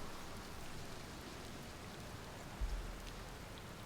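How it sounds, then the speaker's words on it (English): Steady rain in the space game Outer Wilds, a dense, even hiss of falling drops that holds throughout, with a brief low rumble swelling near the end. "Good thing I never get bored of rain, huh?"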